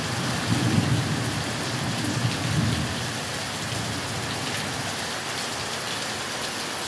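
Steady heavy rain pours down outdoors in El Limón, a dense continuous hiss with some low rumbling early on and no voices.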